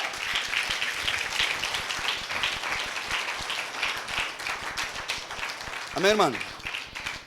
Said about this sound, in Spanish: Dale fuertes aplausos a Jesucristo.